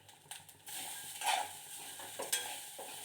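Fried cashews stirred in a pan for coconut rice: a low crackling sizzle with a few distinct scraping strokes of the spoon, close and moderately loud.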